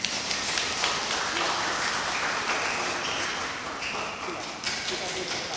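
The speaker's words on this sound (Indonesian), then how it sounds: "Kita beri tepuk tangan." Guests at a Batak wedding ceremony applaud in a sustained, busy patter, with some voices carrying over the clapping.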